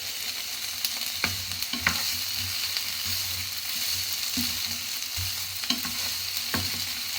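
Boiled potatoes frying with onions in a pan for corned beef hash give a steady, close sizzle, with occasional stirring scrapes breaking through at irregular moments.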